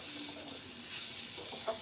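A brief, faint stretch of semolina frying in a pan for upma, a thin continuous sizzle with light stirring rustles underneath.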